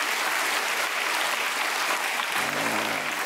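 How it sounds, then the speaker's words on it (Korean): Congregation applause during a church worship service, a steady dense wash of clapping hands filling the room throughout, with no talk over it. "집에서 오손도손 모여서 예배 드리는 분에게 박수 한번 보내주십시오"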